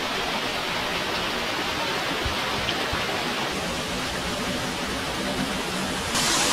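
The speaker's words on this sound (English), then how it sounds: "hot springs waterfall" Water from a hot springs waterfall pours down in a steady, dense rush, loud and close, with no break or change across the whole stretch.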